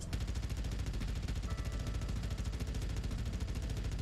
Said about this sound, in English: Here is the light machine gun.